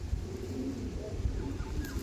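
Andhra pigeons, a male just released, giving soft low cooing calls against a murmur of background noise.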